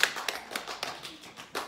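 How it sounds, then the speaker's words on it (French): Children in a classroom clap in a short, loose rhythm, a handful of separate sharp claps spaced across under two seconds, fairly quiet and close, with no talk over them. "On applaudit s'il vous plaît"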